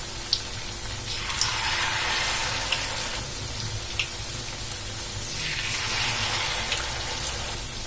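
Chicken and bread snack pieces frying in hot oil on a stove at medium flame, a steady loud sizzle and bubbling hiss that swells and eases in waves, with a few small pops, no talking.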